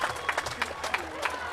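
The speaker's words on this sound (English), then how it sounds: "The crowd goes wild." Crowd at a pickleball championship center court applauding and cheering after a great rally, a spread of clapping and bursts of cheers that rise and fall, with a commentator talking over it.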